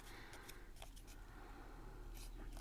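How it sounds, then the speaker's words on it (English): Scissors snip through paper ephemera for a Christmas craft project, a few faint, quiet cuts spaced apart over a soft background hiss. "And then we're going to go ahead and cut right in the middle."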